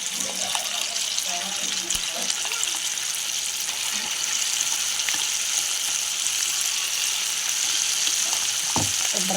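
Tamarind chutney cooking in a pan, producing a steady watery hiss and bubbling with occasional faint clinks from stirring.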